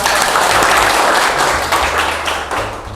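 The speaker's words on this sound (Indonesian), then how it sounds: "Tepuk tangan dong buat" Studio audience applauding a guest on an Indonesian talk show, dense steady clapping throughout that thins slightly toward the end, with no talk over it.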